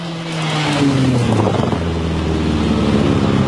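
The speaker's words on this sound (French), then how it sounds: "Quand la Clio Maxi s'éloigne" A Renault Clio Maxi rally car, Group A kit car, revs up and pulls away, its engine note building to a loud, sustained drone with some wind buffeting on the microphone.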